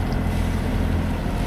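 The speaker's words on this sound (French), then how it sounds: "Bon, bah, j'ai mis le moteur." Sailboat motoring under its engine in calm, windless conditions off Euboea, Greece: a steady, continuous low droning rumble with wind and water noise, constant throughout and without talk.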